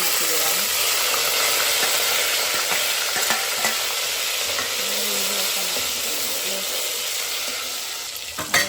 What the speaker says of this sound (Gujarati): થોડું જીરું નાખીશું વઘાર માટે અને થોડી રાઈ નાખીશું અંદર